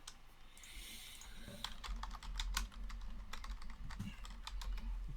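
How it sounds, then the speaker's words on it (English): Fast, steady typing on a computer keyboard, dense clattering keystrokes close by with no voices. "it's a lot of ferocious typing going on."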